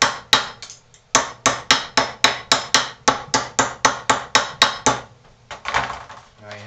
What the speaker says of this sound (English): Hammer the raggedy edges.